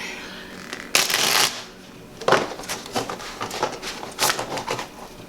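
A deck of tarot cards is shuffled in several close, crisp riffling bursts separated by brief pauses, with no talking.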